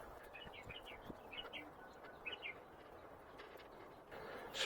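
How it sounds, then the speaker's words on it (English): Springtime birds chirping, with short bursts of bright tweets at a distance over a faint outdoor hiss and a few soft clicks. "Spring is here. Birds are all happy."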